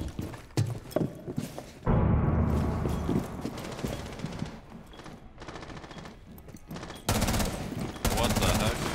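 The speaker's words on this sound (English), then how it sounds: "Shooting over me." Rapid bursts of gunfire from the tactical shooter game Rainbow Six Siege, loud and close, with dense shots crowding the first seconds and again near the end, a voice talking over the action.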